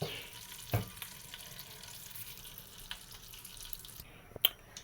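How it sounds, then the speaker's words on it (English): Palm oil poured into a pot for Edikang Ikong vegetable soup, giving a faint, steady liquid trickle and low sizzle with a few soft clicks of the pot, close by and without talk. "I will put my palm oil"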